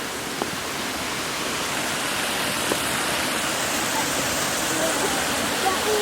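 Waterfall at Fukuyawa Falls in Okinawa rushing as a steady, broadband wash of falling water, close and constant, with a brief voice murmuring faintly beneath it.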